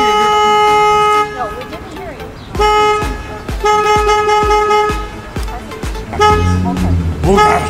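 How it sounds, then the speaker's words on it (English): Repeated car horn honks in short bursts, loud and close, with people talking between and over them. "Horn is very annoying."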